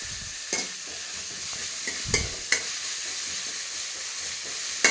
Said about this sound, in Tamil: வெங்காயம் போட்டு நல்லா வதக்கணும்.